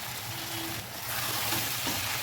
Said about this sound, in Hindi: बाकी की जो प्याज है ना वो इस टाइम पे हम इसमें डाल देंगे